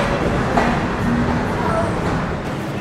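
The Chitra Express, running from Khulna to Dhaka, rolls into Chatmohar railway station in Pabna, a continuous close rumble of carriages with faint clatter and an occasional brief squeal throughout.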